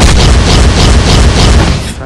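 A dense, roaring burst of explosive fire blasts and booms in a video game, loud and continuous for about two seconds before cutting off abruptly.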